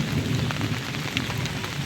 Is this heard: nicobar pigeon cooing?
no